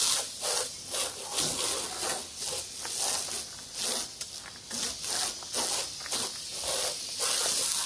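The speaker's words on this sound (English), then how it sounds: "So I'm going to spray this down again." Garden hose spray drumming on a truck roof beside a sunroof during car cleaning, a steady broadband hiss with pulsing surges as the stream sweeps back and forth, close and loud with no talking.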